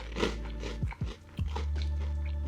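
A soft Japanese senbei rice cracker, shrimp-flavoured, is bitten and chewed up close: a few short crunches followed by quieter chewing.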